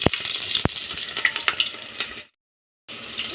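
Onion sizzles in a little oil inside a pressure cooker for khichdi, a close, steady frying hiss with sharp crackles, briefly cut to silence before resuming.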